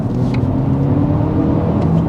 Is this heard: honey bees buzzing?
no